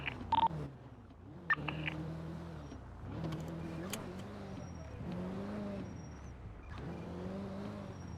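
A phone keypad beeps out a few dialing tones in the GTA roleplay video game as a police car engine revs and hums underneath, the tones brief near the start, the engine rising and falling throughout.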